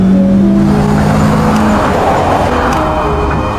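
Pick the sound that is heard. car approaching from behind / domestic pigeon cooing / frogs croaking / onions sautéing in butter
car approaching from behind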